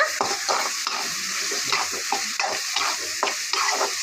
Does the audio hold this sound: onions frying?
yes